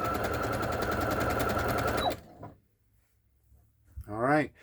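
A Brother CS6000i sewing machine stitching fabric, a steady fast mechanical whir and rapid needle chatter for about two seconds before stopping, followed by quiet and a brief voice.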